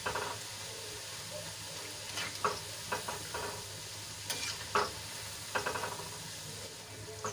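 Besan mamri snack fries in hot oil with a quiet, steady sizzle, broken by brief scraping and stirring clicks every second or so, with no voices.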